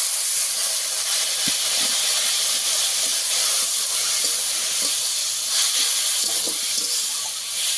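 Water poured into a hot pan of spices for a gima greens dish with potato, eggplant and small pond fish sets off a loud, steady sizzling hiss that carries on unbroken, close up and without speech.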